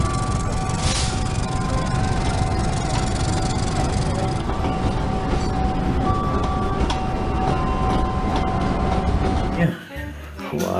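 A CC206 locomotive passes close by, its loud, continuous rumble and rattling wheels filling the air for several seconds before cutting away abruptly near the end.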